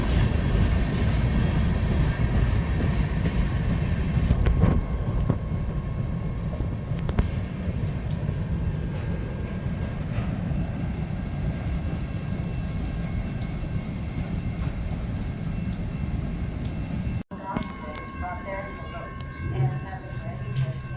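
A train passing through Galesburg: a loud, steady rolling rumble close by that holds for most of the stretch, then cuts to a quieter, thinner tail as the cars clear.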